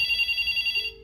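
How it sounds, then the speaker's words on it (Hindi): A landline phone for Jio and Airtel fiber rings with a bright electronic bell ringtone, rapid pulsing trill heard close and loud, cutting off near the end into a low steady tone. "तो यहाँ पर जो है मैं रिंगटोन भी सुना दूंगा आप लोगों को"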